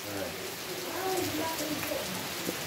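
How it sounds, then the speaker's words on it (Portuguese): Heavy rain falls steadily on a farm at Sítio São Luís in Carnaubal, Ceará, as a continuous broadband hiss, with faint birdsong and a little background voice mixed in. "a chuva tá ficando mais forte e a água tá descendo com mais força"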